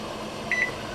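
A short electronic oven timer beep, two quick tones close together, sounds over a steady kitchen background hum.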